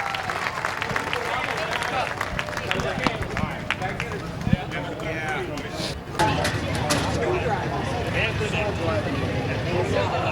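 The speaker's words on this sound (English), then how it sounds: "I want you to give this guy one more big Midvale round of applause" Speedway race fans at Midvale applaud and cheer a sprint car driver, a broad wash of crowd clapping heard at a distance, with an announcer's amplified voice talking over it throughout.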